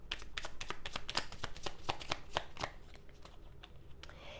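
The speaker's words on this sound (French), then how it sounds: "Je vais vous tirer une autre carte" Tarot cards are shuffled and handled, giving a quick run of crisp riffling and slapping card sounds close up that slows and softens toward the end, with no voice.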